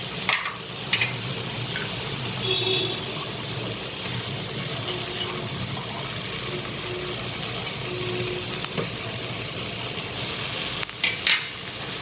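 Carrot burfi mixture made with cream cooks in ghee in a pan, giving a soft continuous sizzle and bubbling with occasional scraping and clinks of a spoon stirring against the metal, fairly quiet and without talk.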